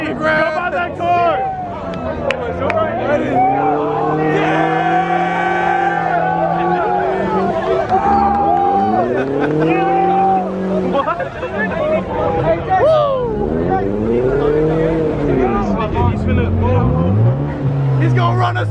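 A Ford Mustang driving at a car meet, its engine rising and falling in loud, sweeping revs close by, with excited crowd chatter and shouting throughout.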